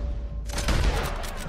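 Gunfire in Red Dead Redemption 2, a quick burst of loud shots that erupts after a quiet start and then trails off into a lingering rumble.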